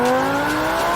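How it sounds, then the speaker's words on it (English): Audi R8 GT Spyder, one of 333 built, fitted with a Milltek race exhaust, rumbling at steady revs with a loud, sustained, close-up exhaust tone and no talk. "Now this car's running the Milltek race exhaust"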